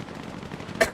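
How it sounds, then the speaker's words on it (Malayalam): A short burst of gunfire from the Free Fire battle game cracks out near the end of a second of busy game noise. "അവരെ വെറുതെ വെടി വെച്ച് കളിക്കുന്നേ"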